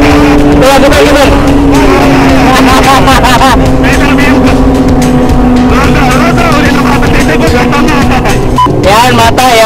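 A group of big motorcycles, including a Kawasaki ZX25R, revving their engines hard, loud overlapping high-pitched engine whines rising and falling close by, with people shouting over them.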